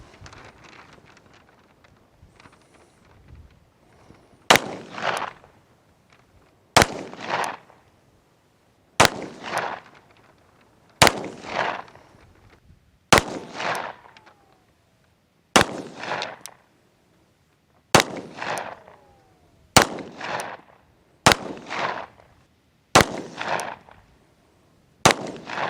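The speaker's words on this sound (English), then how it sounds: "Now let's try our 10 round slow fire." A handgun fires ten rounds of slow-fire practice, each shot a sharp, loud crack spaced a couple of seconds apart, following light wind noise at the start.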